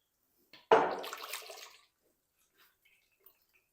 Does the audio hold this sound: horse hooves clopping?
no